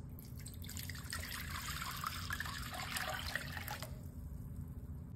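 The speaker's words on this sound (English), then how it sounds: "we're gonna add 1 stick of butter, and then 6 cups of water" Water poured from a measuring cup into a large mixing bowl already holding a stick of butter, a steady splashing trickle lasting several seconds before tapering off, close and fairly loud over a low background hum.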